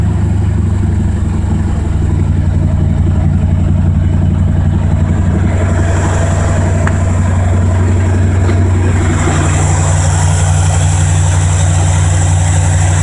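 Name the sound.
Ford 302 5.0 V8 engine idling in a Mazda RX-7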